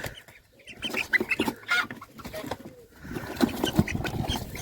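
Small Spanish-breed chicks cheep faintly in scattered high peeps over a soft, noisy market background, with no voices.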